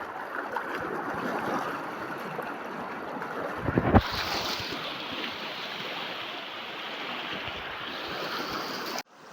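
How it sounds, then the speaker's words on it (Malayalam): A swiftly flowing river rushes steadily and close, a dense wash of water noise with wind buffeting the microphone and a brief louder surge midway. "നെടുക്കളമായി ഒടിക്കുന്ന നമ്മുടെ നദി നോക്കൂ ഗൈസ്"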